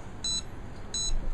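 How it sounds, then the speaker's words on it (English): Finger pulse oximeter giving two short electronic beeps, evenly spaced about 0.7 seconds apart, clear and close over a faint background hiss. "you can press it about two once and you can get the audio alarm, so it gives you the pulse rate"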